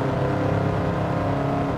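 A race car engine holds full throttle on the Grand Valley track in Gran Turismo 7, with a loud, continuous, steady roar and no break.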